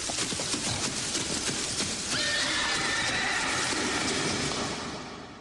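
A horse whinnies in a long, loud, wavering neigh that carries over a dense noisy bed before fading out at the end, used as a historical documentary sound effect.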